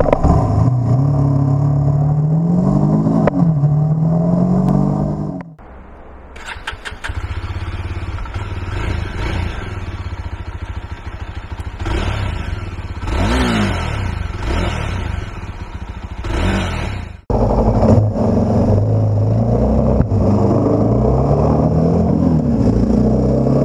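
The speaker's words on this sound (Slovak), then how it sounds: "bobera vám naštartujem." A 2024 Jawa 350 CL Bobber single-cylinder motorcycle engine cranks over, settles into a steady idle and is blipped through several loud revs, close up with no talking.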